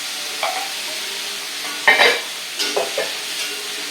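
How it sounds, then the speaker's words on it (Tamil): Tomatoes go into a pan of sautéed onions, frying with a steady sizzle. Several distinct scraping stirs of a spoon are close and clear, with no talking. "இப்போ வெங்காயம் வதங்கிடுத்து நான் வந்து தக்காளியை போடுறேன்"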